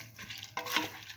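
Split mung beans being stirred in a frying pan, a soft scraping swish with faint sizzling beneath, ending in a brief sharper scrape.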